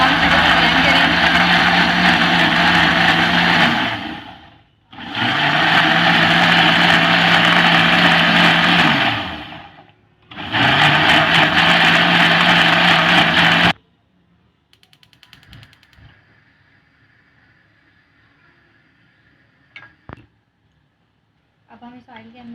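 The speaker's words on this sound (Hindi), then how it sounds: "अब इन तमाम चीज़ों को हम ब्लेंड कर लेंगे।" A kitchen blender whirs through green chicken curry ingredients and yogurt in three loud, sustained motor bursts separated by short pauses, then falls quiet apart from faint handling clicks.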